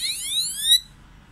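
Level crossing double barrier warning alarm, a single sharp electronic tone rising in pitch for under a second, clear and close, then cutting off to near silence.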